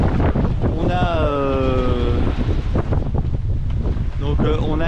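Strong wind buffets a sailboat arriving at Bequia after a night of squalls, gusting from about twenty up to thirty-five knots. The steady, loud roar runs throughout while a voice talks over it.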